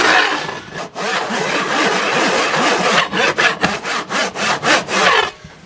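A cast iron pan is scraped hard back and forth across a glass cooktop, a loud gritty grinding that runs steadily, then breaks into a quick series of separate rubbing strokes near the end.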